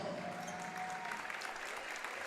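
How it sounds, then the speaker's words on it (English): Crowd applauding steadily at the close of a girls' all-star basketball game in a gym, even sustained clapping without breaks. "Crowd gives a nice round of applause to the 2 teams participating in this one"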